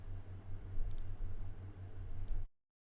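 Two faint, quick mouse clicks land over a low, steady computer hum as restart is selected on a Windows PC, and then the sound cuts to silence.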